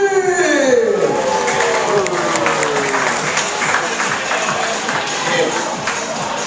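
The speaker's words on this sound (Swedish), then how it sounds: "vi ska ge honom ett stort jubel och folkets applåd" A studio audience in Sweden bursts into sustained applause and cheering to welcome a nervous guest, dense clapping staying loud and steady throughout with a faint voice over the crowd.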